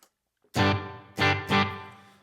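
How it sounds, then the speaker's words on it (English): Electric guitar played through a small room reverb on a Headrush or Helix multi-effects unit: three loud strummed chords, each ringing out with a short roomy tail, after a brief quiet start. "there's a small room reverb"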